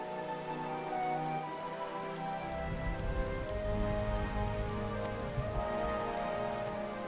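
Rain falling in the video game Final Fantasy XIV: a steady, even patter of drops on surfaces that holds throughout, with a soft musical drone underneath and no voices.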